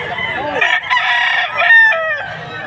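A fighting rooster crows loudly and close at a pet market, its long strained call rising and falling, with other chickens clucking around it.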